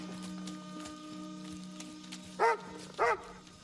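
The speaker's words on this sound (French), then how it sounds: "C'est bien le chien" A dog gives two short barks near the end, close and distinct, over a quiet background with a low steady hum.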